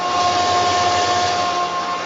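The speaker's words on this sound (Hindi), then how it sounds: "थोड़ी सी कड़कड़ाने की आवाज़ भी आपको सुनाई दे रही होगी," A 2-in-1 pulverizer and masala grinder grinding whole coriander seeds, a steady loud machine whine with a dense crackling hiss running unbroken throughout.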